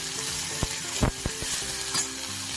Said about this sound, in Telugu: పచ్చిమిర్చి వేయగాక ఉల్లిపాయలు వేసేసుకుందాం